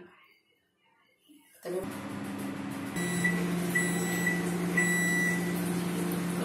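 A microwave oven starts up and preheats to 200 degrees Celsius in convection mode, running with a steady, droning hum, with faint high electronic tones chirping on and off above it.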